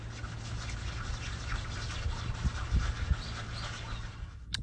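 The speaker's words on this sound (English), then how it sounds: "That's the ding all roughed up. We used our 60 grit sandpaper." Coarse 60-grit sandpaper rubs over a damaged spot on a surfboard with a continuous, gritty scratching hiss. The sound stays fairly steady and moderately close throughout.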